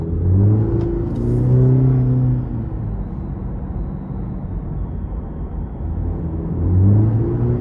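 A 2023 Cadillac CT4-V Series engine accelerates in track mode, a steady, loud rumbling drone that swells and eases as the gears shift, heard from inside the car with no talk.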